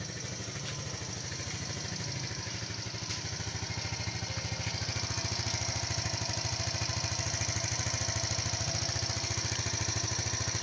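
A motorcycle engine that stalls during rides runs steadily at idle, a fast, even putter with a faint buzzing hum, continuous and close with no talking.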